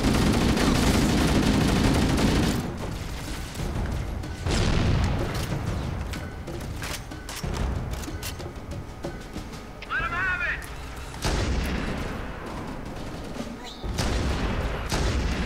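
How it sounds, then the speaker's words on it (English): Sniper rifle fire in Halo: Combat Evolved against Covenant enemies, a few sharp separate shots amid game effects and background noise, with a voice talking at times. "Bad sniping there, 3 shots and I couldn't get him."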